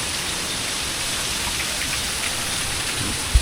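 Steady rain falls and patters on surfaces, a dense, even wash of sound that stays constant throughout with no voices.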